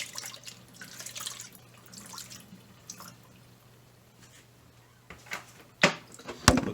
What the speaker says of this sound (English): just using distilled water, what little I have left, and giving this thing a nice, good rinse